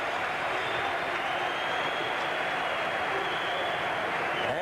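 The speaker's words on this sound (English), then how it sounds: "The crowd giving the United States a standing ovation as they go off the ice." A crowd at a 1980 Winter Olympics hockey game between the USA and Czechoslovakia gives a standing ovation as players leave the ice, a dense, steady roar of applause and cheering throughout.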